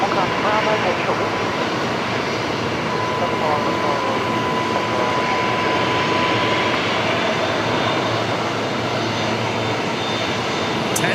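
A Jetstar jet airliner touches down at Brisbane Airport at night, a loud, steady engine roar filling the whole stretch, with voices talking over it.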